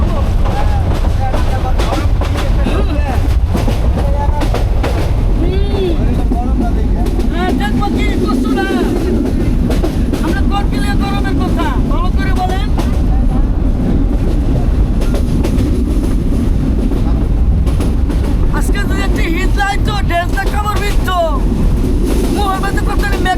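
A crowded local train in Bangladesh between Gafargaon and Mymensingh rumbles loudly and steadily close by, with chatter and voices from passengers heard through the roar.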